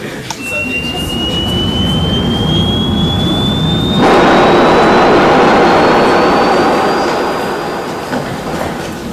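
Airplane jet engine on landing approach, a loud steady roar with a thin rising whine that swells and intensifies midway before easing slightly, heard alone with no talk.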